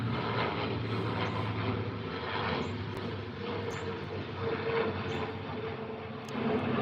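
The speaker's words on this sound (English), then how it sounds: "gosh darn planes" Steady droning engine of a propeller airplane passing overhead, moderately distant, a constant rumbling hum with no talking.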